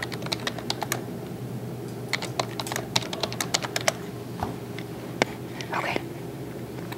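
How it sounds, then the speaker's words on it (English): Rapid, uneven clicks of fingers typing a password on a computer keyboard, close and fairly crisp, in short bursts with brief pauses against a steady low room hum. "Talking and typing a password is hard."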